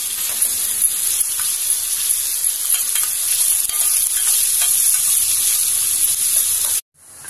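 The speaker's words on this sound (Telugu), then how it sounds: "మనం చిన్న చిన్నగా కత్తిరించుకున్న పచ్చిమిరపకాయ ముక్కలను అందులో వేసి చక్కగా వేగనివ్వాలి" Chopped green chillies and onions frying in a pan, a loud continuous hissing sizzle held close up for about seven seconds before cutting off suddenly.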